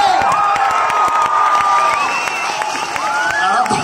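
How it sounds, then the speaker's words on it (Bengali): A crowd at a film trailer launch event cheers and shouts, with whistles and scattered claps, a loud, continuous and close roar of fans that holds without a break throughout. "জোরে হাততালি হবে সবাই মিলে।"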